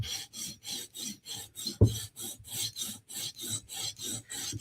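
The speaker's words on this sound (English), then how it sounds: "And let's just sharpen this little edge." A Spyderco knife edge is drawn across a sharpening stone in about a dozen even back-and-forth rasping strokes, close and steady, with one brief low knock partway through and no talking.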